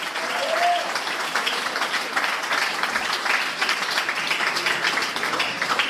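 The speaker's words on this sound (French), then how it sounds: "S'il vous reste quelques applaudissements, on va en donner à Jésus" A church congregation claps together in sustained, dense applause for Jesus during a service, with steady energy from start to finish and a voice briefly rising above it early on.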